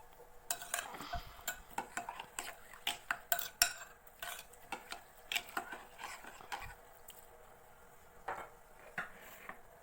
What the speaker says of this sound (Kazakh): Енді тағы да суымыз ағарғанша қайта-қайта жуатын боламыз.